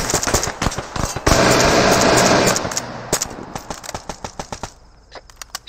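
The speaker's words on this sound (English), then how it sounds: "Shots fired northwest" Gunfire in ArmA3 during a squad training firefight. Loud, sharp single shots and short bursts come from close by, with a dense roaring stretch in the middle. The cracks then thin out into scattered, spaced reports.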